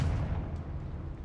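Confringo fire-explosion spell in Hogwarts Legacy, a brief heavy boom with a low rumbling tail, moderately loud and close.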